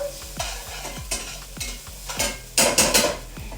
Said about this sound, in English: Okay, so we're going to give this a little mix around.